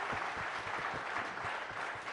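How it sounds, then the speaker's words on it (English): A large summit audience applauds loudly for tabla maestro Ustad Zakir Hussain, a dense, continuous roar of clapping filling the hall without pause. "Let's have a loud round of applause for Ustad Zakir Hussain"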